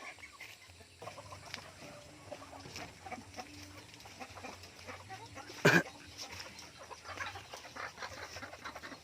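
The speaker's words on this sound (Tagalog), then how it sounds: "Dito naman po tayo sa ating mga native chickens." Native chickens cluck and call at a breeder's farm, scattered soft clucks through the clip with one sharper, louder squawk in the middle, and faint voices in the background.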